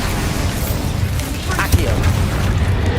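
Bombarda blasting spell going off in the Hogwarts video game, a loud rumbling boom with dense crackling debris, steady over three seconds with a sharper pop near the middle.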